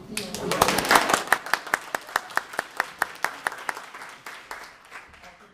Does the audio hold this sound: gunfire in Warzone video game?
no